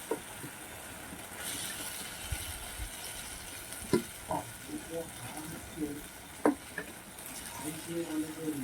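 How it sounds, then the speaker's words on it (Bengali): Fried potatoes sautéed with spices in oil for a snakehead fish curry give a soft, steady sizzle with intermittent stirring knocks and scrapes, close by and fairly quiet. "ভেজে রাখা আলুগুলোকে দিয়ে দেবো দিয়ে মিনিটখানে আলুগুলোকে মশলার সঙ্গে কষিয়ে নেব"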